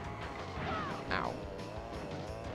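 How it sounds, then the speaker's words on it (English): Kart crash in the video game Crash Team Racing on the Polar Pass course, a brief cartoonish smash with a swooping tone amid continuous game music and engine noise, with a voice speaking over it. "Straight crash."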